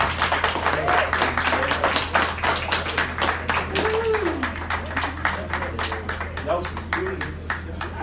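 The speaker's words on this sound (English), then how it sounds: "Let's give him a nice round of applause." An audience at a comedy club applauds a finished stand-up set with dense, steady clapping throughout, while a host talks over it.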